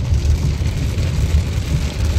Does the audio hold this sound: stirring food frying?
no